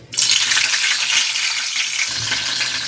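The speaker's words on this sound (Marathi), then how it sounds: "तेल आपलं छान तापलेलं आहे. आपण आता त्यात मिरच्या सोडूया." Green chillies drop into hot oil with a sudden loud burst of frying sizzle that holds steady and close, briefly joined by a faint clink near the end.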